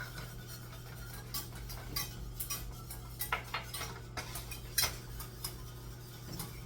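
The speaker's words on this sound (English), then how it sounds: "you have to whisk this around so that it doesn't clump" A whisk taps and scrapes quickly inside a pot of macaroni and cheese sauce thickened with cornstarch, a faint run of light metallic clicks over a steady low hum, with no talking.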